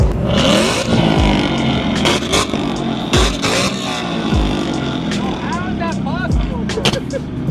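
At a JDM car meet, a modified car revs hard and spits flames, with sharp backfire pops and bangs cracking over the engine's rising and falling roar while people talk excitedly nearby.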